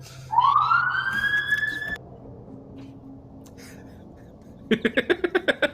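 A siren rises in pitch and wails briefly, then cuts off, followed later by a rapid burst of electronic yelps, heard at a moderate distance over a quiet room hum.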